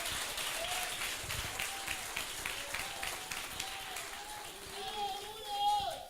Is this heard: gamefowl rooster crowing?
no